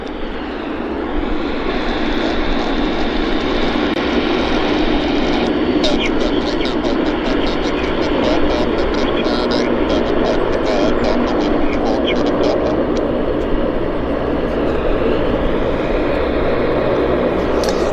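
A WestJet Encore turboprop airliner lands at Vancouver Airport, a steady loud engine and propeller drone from a distance, with a voice speaking over it throughout.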